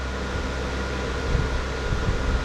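Extra cooling fan running on an open-air Bitcoin mining rig, a steady loud whooshing hum with no talk, holding at an even level throughout.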